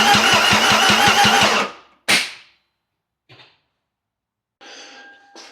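A Toyota MR2 engine cranks on its starter in a rapid rhythmic chug, then cuts off abruptly as the engine locks up, followed by a brief clunk and quiet mechanical clicks.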